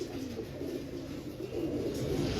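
Closed-boned pet pigeons murmur with soft, low cooing, a quieter continuous warble at moderate distance with no talking.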